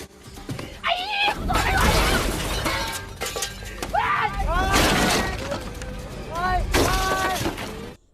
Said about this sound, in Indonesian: kemudian ia menghancurkan kuil yang berada di sana